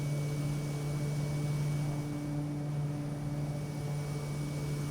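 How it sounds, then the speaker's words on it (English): Quest Kodiak turboprop engine in Microsoft Flight Simulator 2020, a steady droning hum with a strong low tonal whine, continuous and even throughout with no voices. "Ooh, spicy turboprops."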